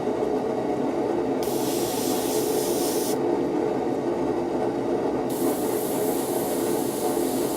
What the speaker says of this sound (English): choose a position, so I'm going to go for this guy here, and then start airbrushing